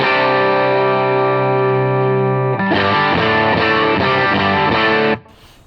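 An electric guitar through a drive pedal with the low end cranked, sustained distorted chords ringing loud and thick, then a second chord strummed with choppy rhythmic hits before cutting off into quiet.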